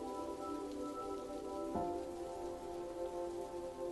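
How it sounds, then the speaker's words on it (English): Heavy rain pours steadily against a window, a dense continuous patter with a low hum underneath. "a heavy rain was beating against her bedroom window"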